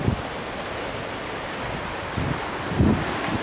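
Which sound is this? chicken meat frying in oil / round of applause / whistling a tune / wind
wind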